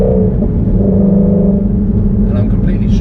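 A Ford Shelby GT350 runs with a continuous, loud, low engine drone that builds and shifts in pitch, heard from close by, with a brief faint voice near the end.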